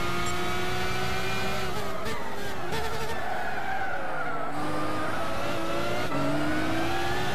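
Race car engines from Gran Turismo 6 in a Japanese GT300 series online race at Tsukuba, droning loud and continuous with overlapping whining tones that rise and fall in pitch as the cars accelerate and shift.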